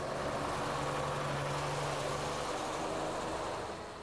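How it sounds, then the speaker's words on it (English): London Routemaster buses driving around Trafalgar Square, a steady low diesel engine rumble with broad traffic noise, continuous and fairly close, easing slightly toward the end. "Trafalgar Square makes a brilliant vantage point, as buses of all types speed round in all directions."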